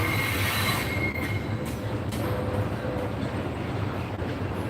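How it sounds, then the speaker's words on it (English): A loud train rumbles past close by, wheels squealing and screeching on the rails over a constant heavy roar. "I'm sorry about the train."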